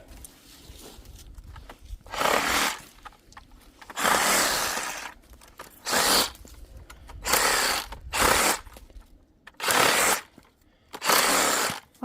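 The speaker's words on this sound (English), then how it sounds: "He brought the Sawzall too, so that he can cut all the little limbs off." A Sawzall reciprocating saw cuts small limbs off a freshly felled Christmas tree in the Stanislaus National Forest, loud rasping bursts of a few seconds each, repeated about seven times with short pauses between.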